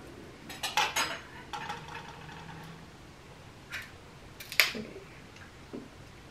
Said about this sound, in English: I'm gonna try to take it off with the knife